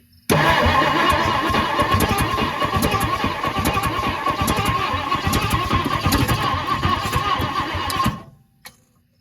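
An old jet-age barn-find car engine cranks steadily on its starter for about eight seconds, a loud, rhythmic churning that never catches, then cuts off abruptly followed by a faint clunk.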